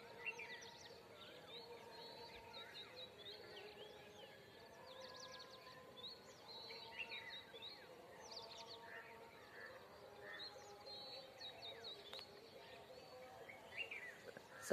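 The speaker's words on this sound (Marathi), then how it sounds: "संपूर्ण पक्ष्यांचा किलबिलाट," Many birds chirp and twitter at sunrise around a farm settlement, a faint, busy chorus of overlapping calls near and far that goes on steadily.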